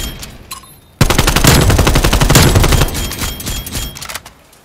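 Automatic gunfire erupts in a shooter video game, a loud rapid burst of shots lasting a few seconds, preceded by scattered fainter game sounds and tapering off at the end.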